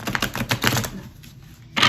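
Smooth-stock tarot cards shuffled by hand in quick riffling bursts, a rapid run of papery clicks over the first second, a quieter stretch, then one sharp final burst near the end.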